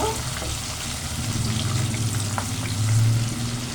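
Garlic cloves and dried red chillies frying in hot oil while being stirred, a dense, loud sizzle with a low bubbling hum that swells near the end, no voices.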